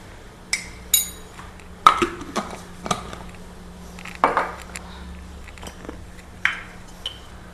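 A metal spoon clinks and taps against containers while scooping coriander powder in a home kitchen, a series of sharp, bright clicks scattered irregularly over several seconds, close and moderately loud with no talk.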